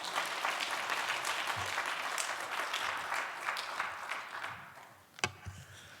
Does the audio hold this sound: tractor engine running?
no